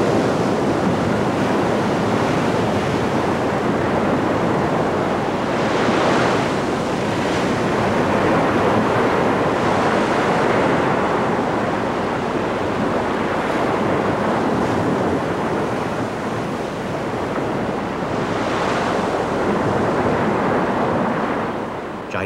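Pacific ocean waves crash and roar continuously in violent wind, a loud, dense wash of surf with gusty buffeting and rising swells throughout, no voices.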